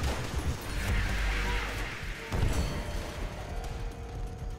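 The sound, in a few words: gunfire in Call of Duty: World at War video game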